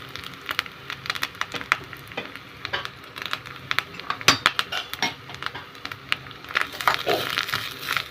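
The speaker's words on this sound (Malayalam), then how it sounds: "നല്ല ബ്രൗൺ കളറായി വരുന്നവരെ ഒന്ന് ഇളക്കി കൊടുക്കുക" Grated coconut roasting in a pan for a Kerala sadya erissery, stirred with a metal spoon: irregular scraping and clinks of utensil on pan over a faint sizzle, close and fairly quiet, with brief murmured talk.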